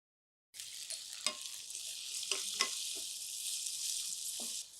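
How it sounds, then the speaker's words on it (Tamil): Tomatoes fry with sautéed onions in a pan for a millet curry leaf rice, a steady close hiss of sizzling oil starting suddenly, broken by a few soft scraping stirs. "வெங்காயம் நல்லா வதங்கிடுச்சு டொமேட்டோ சேர்த்துக்கலாம்"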